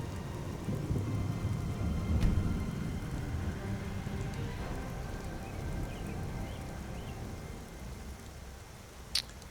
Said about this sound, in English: We are going to get out of the rain.